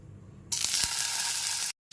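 Paneer pieces go into very hot white oil and burst into a sudden loud sizzle that holds for over a second, then cuts off abruptly, with no speech.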